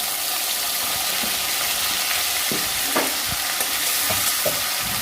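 Ginger, garlic and onion paste sizzles steadily in a hot pan, with occasional scraping stir strokes from a spatula over the constant frying hiss; no voices.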